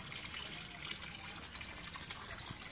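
Water gushes and trickles steadily through the flushing chamber of a gravity-fed constructed wetland, a continuous close wash of flowing liquid with no voices.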